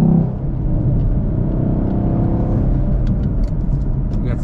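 Engine of a 2021 Camaro SS 1LE pulling hard through backroad corners, a steady loud rumbling drone from inside the cabin with no break over the few seconds.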